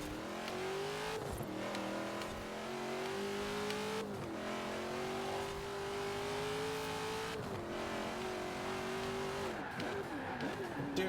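Racing video game car spinning out under light braking, its engine note rising and falling through revs with brief dips, heard loud and steady with a faint voice underneath.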